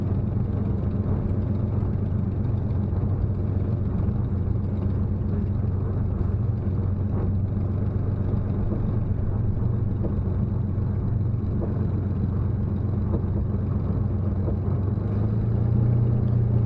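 Spitfire MJ627 fighter aircraft engine taxiing out to the runway: a loud, steady, close engine drone that holds unbroken throughout, with a slight swell near the end and no talk.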